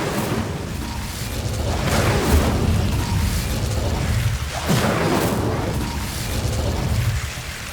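A burst of fire from the Incendio spell in Hogwarts Legacy, a broad booming whoosh that swells and rolls loudly for several seconds, with a sharper crackle partway through and a steady roar beneath.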